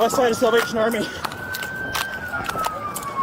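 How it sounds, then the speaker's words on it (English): A police siren wails steadily in the background during a pursuit in downtown Fargo while someone speaks over a radio-like channel, the tone sliding slowly up and down. "The wail of police sirens echoed through downtown, signaling an emergency response."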